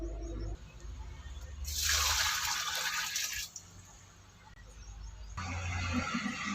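Fertilizer-mixed water is poured onto a rose plant, a rushing splash of about two seconds set between quieter, low background rumble.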